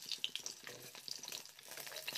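Fish pieces sizzle in hot oil in a kadai, with close, steady crackling and spitting that is broken by small pops.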